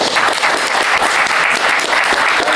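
A convention audience at a comics panel gives a round of applause, loud, dense and continuous clapping from a crowd that holds steady throughout.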